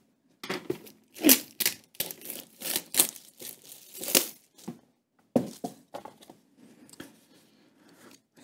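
Crinkly paper rustling in irregular bursts, close up, with brief pauses between handling sounds and no talking.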